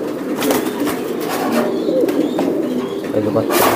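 Soft cooing of racing pigeons at a large pigeon farm repeats amid background chatter and ambient noise, with a few brief chirps near the end.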